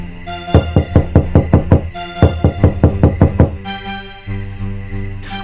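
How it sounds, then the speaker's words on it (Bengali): Two bursts of rapid, evenly spaced knocks on a door, about six or seven each, followed by a quieter resonant tone. "মধ্যরাতে দরজা ধাক্কানোর শব্দ"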